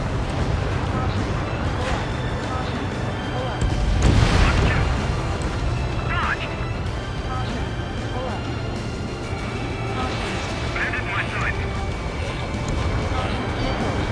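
An explosion as an AA gun target is destroyed during a pipeline destruction mission in Ace Combat 7, a heavy boom swelling midway over a constant jet engine roar, with radio voices talking throughout.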